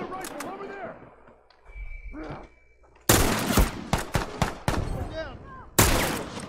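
Rifle fire in a fast-paced shooter video game: several loud, sharp shots crack out in quick bursts after a quieter stretch, with a player's voice shouting between them.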